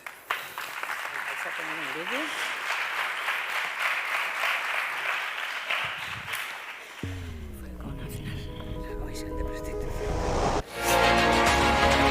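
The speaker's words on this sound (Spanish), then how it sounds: "recíbanla con un fuerte aplauso" Applause from a congress audience breaks out as a woman is welcomed, steady clapping over the first half before music with a voice takes over and a louder burst arrives at the end.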